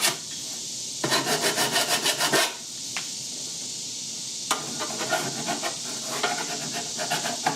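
A hand file rasps across a steel glovebox door on a 1966 Ford F100: a fast run of close, scratchy strokes, a pause, then a single stroke and a steady series of lighter strokes. No one speaks.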